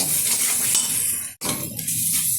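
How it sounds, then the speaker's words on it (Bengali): Garlic paste being stirred and sautéed in a pan for chicken curry with sour yogurt, a steady loud sizzle with scraping spoon strokes and a brief pause partway through. "এখন দিয়ে দেবো এর মধ্যে রসুন বাটা এবার আমি ভালোভাবে কষিয়ে নেব"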